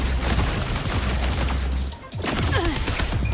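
Dense, continuous gunfire from a Wuthering Waves battle, a loud sustained fusillade of overlapping shots that dips briefly in the middle before resuming with heavy impacts.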